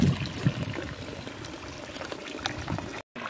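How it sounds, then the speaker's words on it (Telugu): Water runs steadily from a village borewell, a continuous close-up rush and splash lasting a few seconds with no talking, then a brief cut at the end. "బోర్లో వాటర్ కూడా వస్తున్నాయి."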